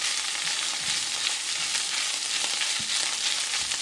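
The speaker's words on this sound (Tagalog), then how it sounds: "Medyo prito-prito lang natin na ganyan hanggang ma-mix yung ating tomato paste." Steady, close sizzling of ground pork frying with tomato paste in a hot pan, with a few soft scrapes and stirs, no voices.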